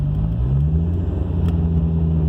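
A car with an aftermarket gauge and boost controller driving up a residential street at low RPM, a steady close engine drone with a slowly rising pitch, no voices.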